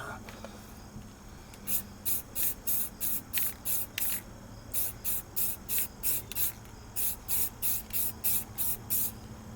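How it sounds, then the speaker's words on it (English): An aerosol can sprays base coat onto a 1926 DL&W model rail car in short hissing bursts, about fifteen evenly spaced puffs close to the listener over a low background hum. "Applying the base coat."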